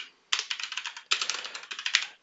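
Two quick bursts of fast, crisp keystrokes on a computer keyboard, close and clear, with brief pauses between runs and no talking.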